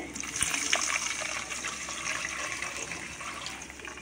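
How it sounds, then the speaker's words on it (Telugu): Water is poured into a cooking pan of sautéed onion and green chilli for wheat rava upma, a close, continuous splashing pour lasting several seconds with no talk over it. "ఉల్లిపాయ పచ్చిమిరపకాయ అయిపోయింది, నీళ్ళు పోసేస్తున్నామండి."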